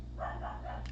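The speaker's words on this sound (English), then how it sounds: "That's my dogs." A dog gives a few quick, muffled barks in rapid succession, heard faintly from somewhere nearby over a steady low hum.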